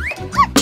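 A toy dog gives a brief, loud electronic yip and bark, close and sharp, ending in a burst of noise.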